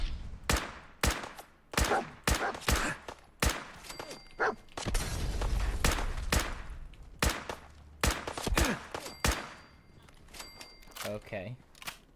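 Rapid gunfire in the Fallout 4 video game: a string of sharp, loud shots in irregular bursts, with a brief rumbling blast midway and scattered shots trailing off at the end.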